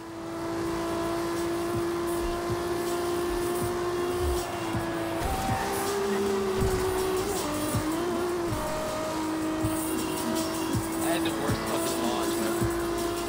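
A GTR car's engine drones steadily in Forza Horizon, a sustained loud tone with shifting pitch and occasional tire noise, while a voice talks over it throughout.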